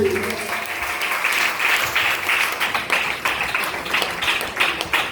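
A church congregation claps loudly at a worship service in a dense, sustained burst of rhythmic clapping that fills the room, with a preacher's voice faintly mixed in.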